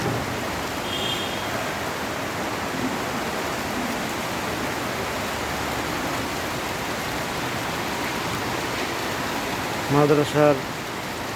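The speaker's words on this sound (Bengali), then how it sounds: "এখন 3টা বাজে, প্রচণ্ড বৃষ্টি হচ্ছে।" Heavy rain in Barishal falls as a loud, unbroken wash of noise for the whole stretch, with a voice briefly speaking near the end.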